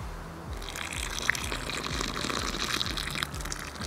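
Hot water pours steadily into a coffee cup outdoors on a slate-rock viewpoint by the Moselle, a continuous close trickling and splashing stream with no pauses.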